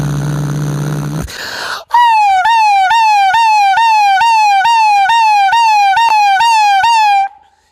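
A man vocally imitates a police siren with a repeating rising-and-falling wail, about a dozen loud, rhythmic cycles after a brief rumbling lead-in, alone without talk.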